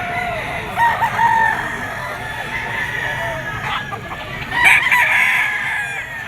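A yellow-legged gamefowl stag rooster crows in a farmyard, several drawn-out, strained calls that rise and fall, with loud peaks near the middle and end over a low background hum and faint clucking.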